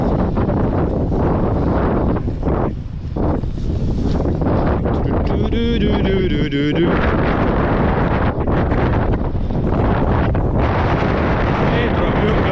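Sea wind gusts from the side across a mountain ride on Holyhead Mountain, Anglesey, buffeting the microphone in loud, uneven roaring bursts, with people talking intermittently.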